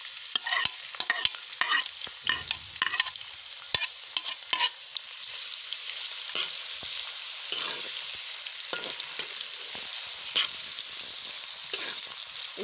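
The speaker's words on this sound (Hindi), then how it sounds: "इनको हम हल्का सा कड़कड़ाएंगे और साथ ही हम इसमें 2 मीडियम साइज़ की कटी हुई प्याज डाल देंगे।" Two medium chopped onions fry with cumin and small cinnamon pieces in a mutton palak pot, giving a continuous close sizzle broken by frequent scraping stirs and clicks of a spoon.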